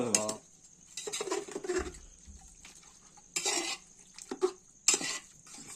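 Rice and chicken being stirred in a pot over a wood-fired stove, with scraping and clanking utensil strokes in uneven bursts between quiet gaps, close and fairly loud, with no voices.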